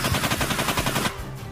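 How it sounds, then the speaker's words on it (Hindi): Aliens in an animated story fire guns in a rapid, loud machine-gun burst of evenly spaced shots that stops abruptly near the end. "एलियन चारों तरफ से मेहुल पे फायरिंग करने लगते हैं।"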